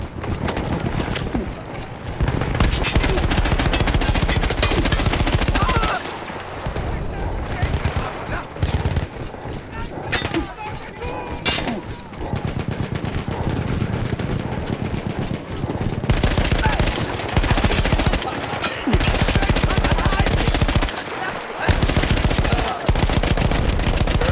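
Machine gun fire in the World War I video game Battlefield 1, long loud bursts of rapid shots with short pauses between them, set against the din of battle, and a voice talks at times.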